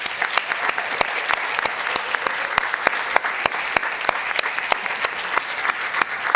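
An audience at a student presidential election meeting claps steadily, with sharp individual claps standing out over a dense, even patter that holds for the whole stretch.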